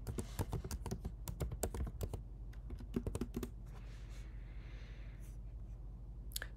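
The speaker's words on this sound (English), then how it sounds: "Put in my computer password here." Keys on a Mac computer keyboard clatter in a quick, close burst as a password is typed, then give way to a low steady hum for the last few seconds.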